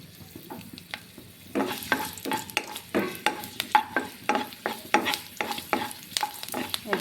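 Chopped garlic frying in hot oil in a pan, a steady close sizzle punctuated by regular scraping strokes of a spatula stirring, growing busier after the first second and a half, with no talking.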